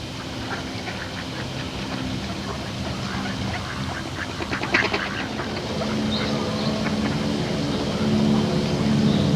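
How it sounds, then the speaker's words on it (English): Ducks quack intermittently on a man-made park pond in Victoria, Vancouver Island, a scatter of calls over a steady low engine-like hum in the background, with faint voices. "they are amply inhabited by members of the duck family"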